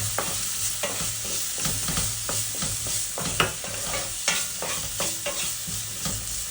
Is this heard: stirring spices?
yes